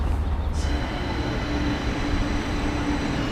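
Steady low rumble of a train in motion, a continuous dense roar with a faint high whine, no voices.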